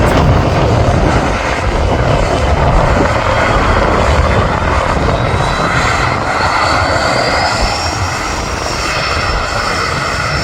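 A KLM airliner on the runway at Manchester Airport, its engines roaring loud and steady throughout with a rising whine near the end, no talk.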